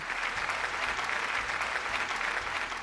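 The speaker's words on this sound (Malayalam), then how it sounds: "നല്ലൊരു കൈയടി." Studio audience at a Malayalam TV game show breaks into sustained, dense applause, steady and full throughout with no pause.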